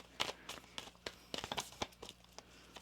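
A deck of tarot cards gets a brief hand shuffle, heard as soft, close snapping and sliding flicks in a quick irregular run over a quiet background.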